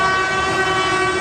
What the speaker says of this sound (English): a Virginia Railway Express train arrives at Alexandria.